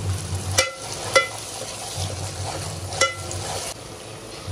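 Tomato-onion paste with green chili paste sizzles softly in a pan on the stove, with a spoon scraping and stirring in a few distinct clinks over the low frying hiss.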